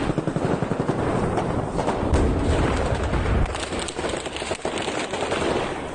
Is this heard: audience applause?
no